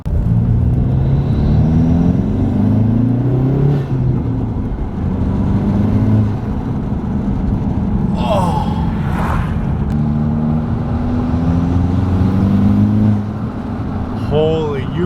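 A Hyundai Veloster N fitted with an Injen cold air intake pulls hard through the gears, engine tone rising, dropping at shifts and climbing again, loud from inside the car with people talking over it.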